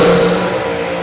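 A drag racing car roars continuously down the strip at the Summer Nationals, a loud sustained engine drone with a strong steady tone, the wheels showing a bit of tyre wobble while the throttle stays pinned.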